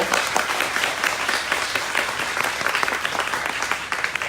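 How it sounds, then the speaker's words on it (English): Audience applause for volunteers at a public event, a dense, steady wash of many hands clapping at close range throughout, with no talk over it. "Let's give our volunteers a hand."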